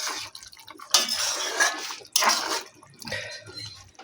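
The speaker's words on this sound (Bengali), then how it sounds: "তো দেখো এখানে আমি ঢাকনাটা খুলছি।" A metal lid lifted off a cooking pot of simmering flat beans and potatoes, with clanks and scrapes of metal against metal plus a faint bubbling, watery sound near by.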